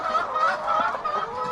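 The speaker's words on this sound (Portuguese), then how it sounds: "o Anderson tem 2 aviários, ambos com 35 mil frangos" Broiler chickens crowd a large poultry house holding tens of thousands of birds, their clucking blending into a continuous, dense murmur with no speech.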